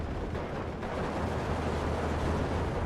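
Off-map artillery shells exploding in Steel Division 2, a dense, rumbling barrage of deep booms blending into a continuous low roar, fairly loud and sustained without clear gaps.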